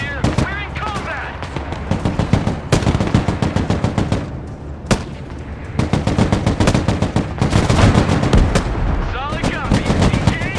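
Heavy machine gun bursts and booming artillery fire from the war game Broken Arrow pound almost continuously and loudly, with radio-style voice callouts mixed in among the shots.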